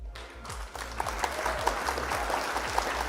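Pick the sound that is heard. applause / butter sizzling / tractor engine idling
applause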